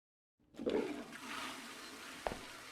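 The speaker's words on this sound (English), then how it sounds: "Flush the toilet." A toilet flushes in the video game Ethel: a sudden rush of water starts abruptly, then settles into a steady, moderately loud gurgling drain with a brief click near the end, with no voices.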